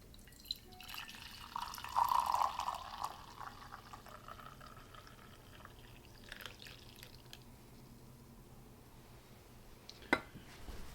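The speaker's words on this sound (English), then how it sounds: "Let's just pour the coffee already." Pour-over coffee pours from a Fellow Stagg EKG kettle in a thin, quiet trickle, followed by soft drips and small clinks with a TIMEMORE carafe in a calm room.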